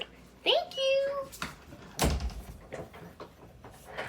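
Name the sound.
door being closed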